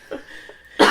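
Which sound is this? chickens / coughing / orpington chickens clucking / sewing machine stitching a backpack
coughing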